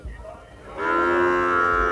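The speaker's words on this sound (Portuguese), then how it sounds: "Ó, segundo curral aqui, mais uma garrotada jovem." Young cattle in a pen at the Caruaru cattle fair: a loud, close, drawn-out moo that starts after a brief pause and holds steady for over a second, with faint crowd noise beneath.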